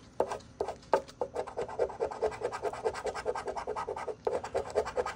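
A Wisconsin lotto instant scratch-off ticket is scratched with quick, repeated rasping strokes, close and fairly quiet, in an uneven rhythm of short bursts.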